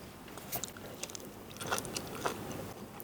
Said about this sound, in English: That's a kimchi crunch.